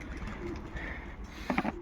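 Pigeons coo near the end, a brief close burst of soft throaty calls over a quiet indoor background.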